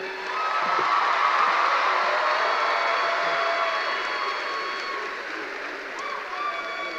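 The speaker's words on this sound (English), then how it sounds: "One more round of applause for these graduates" Audience at a high school graduation ceremony clapping for graduates, a broad sustained applause that swells early and slowly tapers, heard in a large hall with no voices on top.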